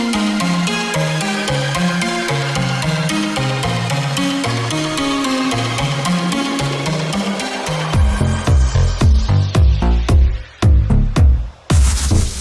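Electronic track running through its drop, with layered synth melodies and a rising riser building to a punchy section of heavy kick-driven bass hits and bright accents, loud and dense throughout.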